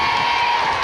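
A concert crowd at an outdoor arts festival in Gyeongju cheers and whoops, a dense, loud wash of voices that holds steady for under a second.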